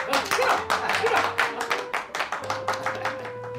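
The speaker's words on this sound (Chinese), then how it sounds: "掌声欢迎郭总啊" A village audience claps to welcome a company executive, giving a few seconds of brisk, fairly close applause from a small crowd with a low hum running underneath.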